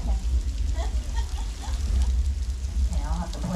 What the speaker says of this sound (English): So we're showing you how we make it rain out here at Universal Studios Hollywood.